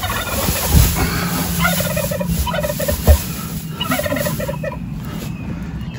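Several turkeys gobble in repeated bursts on a homestead, some nearer and some farther off, over a steady outdoor background with a couple of thumps.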